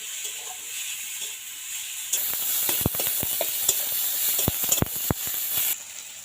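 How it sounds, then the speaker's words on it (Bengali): A pan sizzles softly while a spatula scrapes and taps against it in quick irregular strokes as onion and tomato are stirred. "এটা তিন চার মিনিটের মতো ভালোভাবে একটু নাড়িয়ে নেওয়া লাগবে যাতে পেঁয়াজ আর টমেটোটা খুব ভালো নরম হয়"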